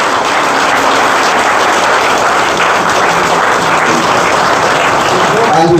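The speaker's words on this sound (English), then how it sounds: "I want you to give Dr. Von Lewis a round of applause." Loud, continuous applause fills a hall at an annual general meeting, a dense unbroken roar of clapping lasting several seconds with voices mixed in beneath it.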